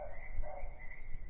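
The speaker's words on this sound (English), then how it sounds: "Oh, that's a dog too" A dog barks a couple of times at a distance on an off-grid rural California property, the barks sitting over outdoor ambient noise and a steady background hum.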